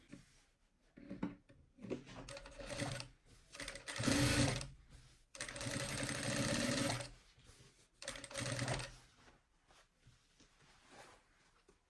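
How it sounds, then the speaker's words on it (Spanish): A sewing machine topstitches a seam on palazzo trousers in several bursts of rapid, steady mechanical whirring with short pauses between runs, close and fairly quiet. "ahí es donde estamos pasando el pespunte"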